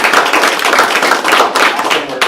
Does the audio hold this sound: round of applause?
yes